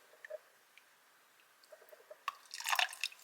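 Water drips from a clogged stainless steel coffee filter: faint, sparse single drops at first, then a quicker cluster of louder splashy drips and trickling near the end, close by and alone.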